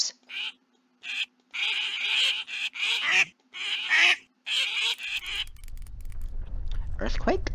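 Baby ducks quack in the Metamorphabet video game, a series of short bright honking calls coming in quick bursts with brief gaps, close and clear, followed by a rising mechanical rumble.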